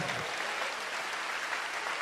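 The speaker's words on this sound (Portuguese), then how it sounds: "dê uma salva de palmas ao Senhor" Church congregation applauding during a sermon, a steady dense wash of clapping that holds evenly throughout, close and fairly loud.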